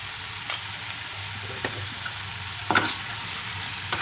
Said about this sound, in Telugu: ఇది బాగా వేగుతుందండి. ఇప్పుడు దీనిలో నూపప్పు పౌడర్ ఉంది కదా, మనం మిక్సీ చేసుకున్నాం, అది వేసుకుంటున్నాను.